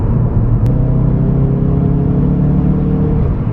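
A 375 bhp Ford Focus RS Mk3 pulls hard from inside the cabin, its engine a loud, steady rumbling drone with rising harmonics as it accelerates, constant throughout without any talk.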